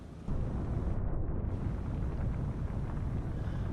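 Torpedo strike on an enemy ship in the submarine game Cold Waters, a low, steady rumbling roar that swells in abruptly and holds like a distant explosion, with no voices.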